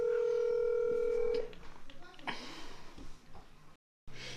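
A telephone dial tone holds steady for about a second and a half, then cuts off. Breathy handling noise and faint shuffling follow and end in a brief dropout.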